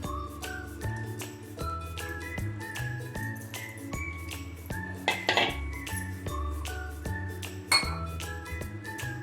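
A container lid from a kitchen cream-and-ghee batch is rinsed with a little water, giving a string of close, bright clinks and taps of glass and metal against each other, irregular and moderately loud, with no voices.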